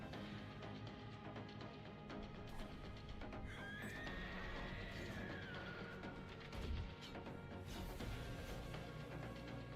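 A spider-like horse creature in a video game trailer gives a drawn-out whinny that rises and wavers over a dense, rumbling game soundtrack and effects.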